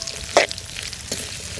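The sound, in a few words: onions, green chillies and dried fish frying in pan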